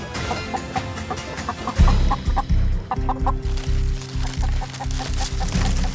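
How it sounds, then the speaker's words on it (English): Wild chickens cluck and squawk in a steady, busy chorus close by, with a louder burst of fowl calls partway through and continuous low rumbling underneath. "Wild chickens can be dangerous."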